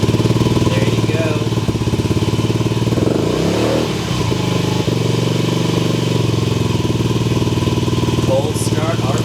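Honda Ruckus scooter engine idling after a cold start, a steady close putter with rapid pulsing throughout and a brief clatter midway.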